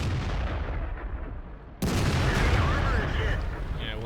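A T29 tank firing its cannon in World of Tanks, one loud sudden blast midway after a rumbling engine bed, followed by sustained noise and faint talk.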